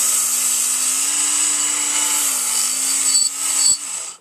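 A Work Sharp belt knife sharpener grinds a knife blade freehand, giving a steady high, abrasive whir over a low motor hum that wavers slightly in pitch, with short interruptions near the end as the blade lifts away.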